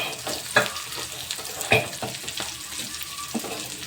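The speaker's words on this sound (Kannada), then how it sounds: "ಇವಾಗ ಇದು ನೀಟಾಗಿ ಎಣ್ಣೆಯಾಗ ಫ್ರೈ ಮಾಡ್ಕೊಳ್ಬೇಕು" Onions and curry leaves fry in hot oil, giving a steady close sizzle broken by a few sharp stirring scrapes of the spatula against the pan.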